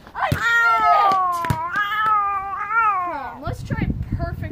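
A cat gives one long, drawn-out wavering meow close by, falling in pitch, followed by indoor rustling and knocks.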